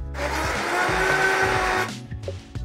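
A blender whirs steadily while it purées wild garlic with yoghurt and oil. The loud continuous motor drone runs for nearly two seconds, then drops into brief fading rattles and clunks as it winds down.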